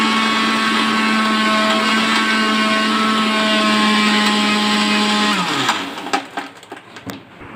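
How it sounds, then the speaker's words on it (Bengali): A mixer grinder runs with a steady, loud whine while blending sour yogurt into lassi, then winds down and stops near the end, leaving a few clinks and knocks. "লস্যিটা বানানোর জন্য মিক্সার দিয়ে দিয়েছি।"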